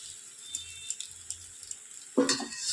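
Vegetarian pasta being stirred with fried potato and tomato in butter in a pan, soft scraping and clinking strokes at a steady rhythm, close by, ending in a louder burst of sizzling and stirring.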